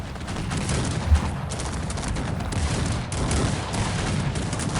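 Gunfire in the strategy game Cossacks 3 during a 3x3 match as Sweden, a dense, continuous volley crackle of musket fusillades with one louder boom partway through, steady and loud throughout.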